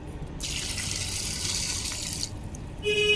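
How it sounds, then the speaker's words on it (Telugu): Water pours steadily over turmeric roots, a continuous bright splashing stream that runs for about two seconds, then stops abruptly and leaves a quiet room. "ఇలా నీళ్ళు పోసి"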